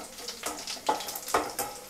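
Cumin seeds and dried red chillies frying in hot oil for a tempering, with a soft crackling sizzle broken by a few sharp spits and pops, close and faint, with no talk.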